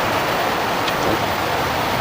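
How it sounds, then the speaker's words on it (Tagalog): Heavy rain pours down steadily in a dense, loud hiss, close and unbroken throughout the short stretch, with no voices. "lakas ng ulan mga idol"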